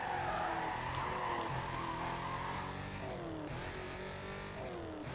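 A car in Need for Speed Carbon drives with a revving engine and squealing tires as it skids, a continuous close engine drone with pitch shifts and no talk.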